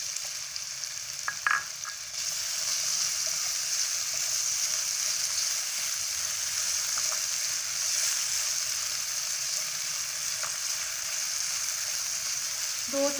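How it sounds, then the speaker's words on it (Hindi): After a short clunk, cubed potatoes hit hot oil in a pan and settle into a loud, steady, even hiss of frying that continues unbroken. "अब हम इसमें आलू शामिल करेंगे और इनको फ्राई कर लेंगे अच्छी तरह से।"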